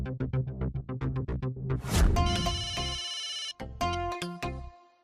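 A phone ringtone plays clearly and close: a quick run of rhythmic beeps, then a bright melodic ring that repeats.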